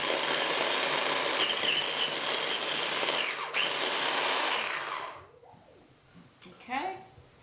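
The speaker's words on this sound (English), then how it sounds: "Put the blender on" A blender whirs loudly and steadily for about five seconds blending a butter chicken sauce, then cuts off, leaving quiet room noise and a brief voice.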